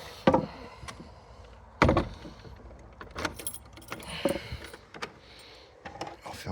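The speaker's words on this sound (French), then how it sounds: "On ferme la porte." A house door is closed, with sharp knocks and rattling clatter coming in several separate bursts over a low background rumble.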